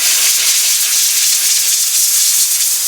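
A strong burst of compressed air from a compressor hose blows grease and debris off a chainsaw bar and groove, a loud continuous hiss lasting a few seconds.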